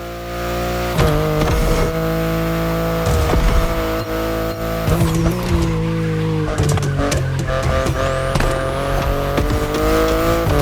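A BMW i8 hybrid sports car is driven in the video game The Crew Motorfest. Its engine drones loudly and continuously, with the pitch rising and falling through shifts and bursts of acceleration, and brief tire noise in places.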